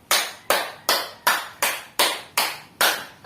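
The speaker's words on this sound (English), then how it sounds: "give yourself a 10 claps for that" A class claps in unison in a classroom, eight sharp, evenly spaced claps in a steady rhythm, loud and close with no talking.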